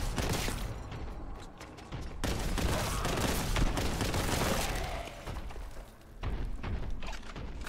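Grenades burst in Warhammer 40,000: Boltgun amid relentless gunfire, a dense, loud barrage of thuds and booms that barely lets up.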